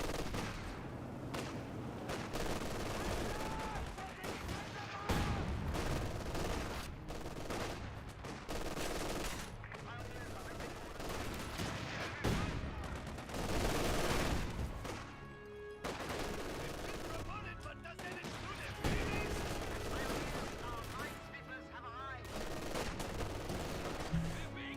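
Rapid bursts of rifle and machine-gun fire from grenadiers garrisoned in a building in Company of Heroes 2, dense overlapping shots continuing steadily throughout with occasional louder volleys.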